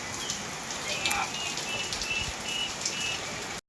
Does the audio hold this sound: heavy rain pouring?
yes